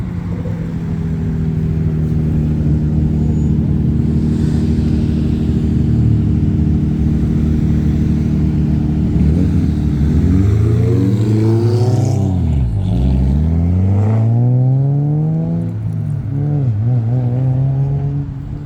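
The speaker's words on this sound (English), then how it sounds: "Single turbo Civic." A single-turbo Honda Civic at a car meet revs its engine close by, a steady loud drone rising into sharp repeated revs with falling pitch sweeps, no talk over it.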